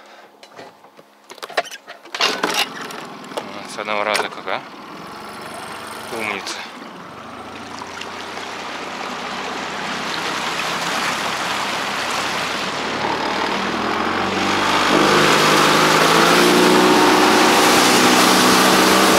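A Honda outboard boat motor sputters to life after a few tries, then settles into a steady, loud running drone that builds and holds, with brief talk early on.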